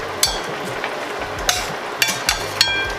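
Shrimp with curry sautés in a pan with a soft, steady sizzle, broken by several sharp metallic clinks and scrapes as a utensil stirs the pan.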